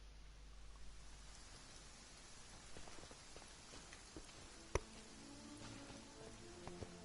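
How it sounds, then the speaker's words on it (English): Soft, steady rainfall in the video game Genshin Impact, a faint hiss of drops with a few scattered louder taps and one sharp click, no voices. "Oh, it's raining."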